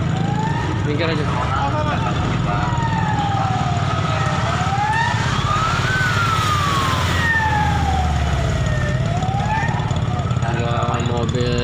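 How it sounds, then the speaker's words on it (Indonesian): A fire engine siren wails in slow rising and falling sweeps along a street in Bandar Lampung, loud and close over traffic rumble, with voices talking underneath. "Ada mobil pemadam kebakaran depan."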